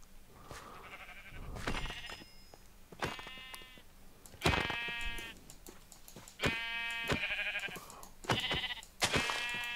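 Sheep in the video game Minecraft bleating repeatedly, about six short nasal bleats spaced a second or two apart, clear and close with no talk over them.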